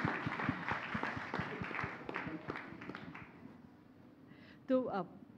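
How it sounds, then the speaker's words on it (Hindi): Clapping from a crowd with distinct individual claps, fading out over a few seconds before a voice briefly starts speaking. "सब लोग उत्तर प्रदेश के लिए यार एक बार ताली बजा दो"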